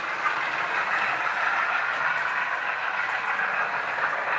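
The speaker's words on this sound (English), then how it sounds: "I've just switched the TTS sound off the 66 just so you can hear the 50" A model Class 50 locomotive running with a TTS sound chip, giving a steady droning engine hum with a hissy mid-range tone, continuous and fairly loud with no voices.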